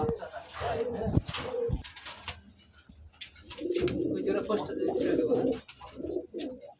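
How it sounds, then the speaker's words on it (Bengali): Gola-type pigeons on a Rajshahi giribaj pigeon farm give throaty, bubbling coos in bursts that grow into a longer rolling run, heard close, with a voice talking at the start. "ভাইয়ের কাছে এই যে আকর্ষণীয় কিছু কবুতর আছে, এই যে গররা টাইপের"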